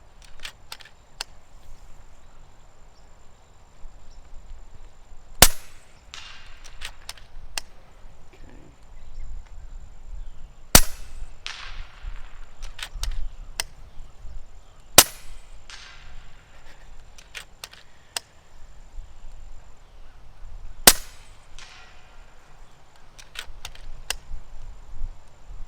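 Shots from an FX Crown MKII .30 caliber air rifle ring out as sharp, isolated cracks spaced several seconds apart outdoors, over quiet insect-like background noise.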